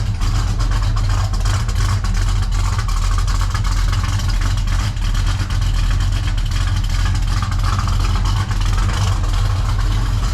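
A 1979 Chevrolet El Camino engine runs steadily close by, a dense continuous low rumble with a slight rev, loud and unbroken throughout with no talking.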